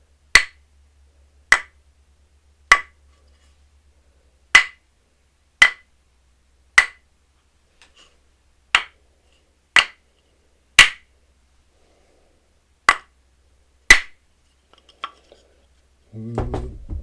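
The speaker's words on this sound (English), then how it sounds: "and then the tapping of sticks" Crisp wooden stick taps, a dozen or so struck one at a time at an uneven pace, each with a brief echo tail as a room's acoustics are tested; a voice begins speaking right at the end.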